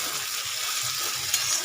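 Chopped tomato and green chilli hit onion in a hot pan, giving a brief, loud, even sizzle with a faint clink near the end.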